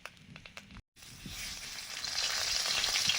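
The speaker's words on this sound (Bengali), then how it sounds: "প্রথমে মাংসের আলুগুলো একটু ভেজে নিচ্ছি লবণ দিয়ে।" Potatoes frying in mustard oil with salt: a few clinks and a brief gap, then a sizzle that grows steadily louder and denser over the last two seconds.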